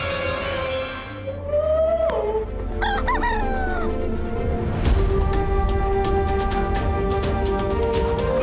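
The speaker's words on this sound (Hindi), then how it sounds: "मुर्गा गुरुदेव, मुर्गा।" A rooster crows loudly nearby with a long drawn-out call, followed by more crowing and clucking from other chickens.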